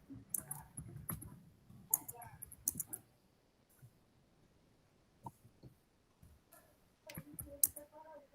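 Someone typing on a new American-layout keyboard in an afternoon class: sparse, faint key clicks in short irregular bursts separated by quiet gaps, with soft voices murmuring in the background.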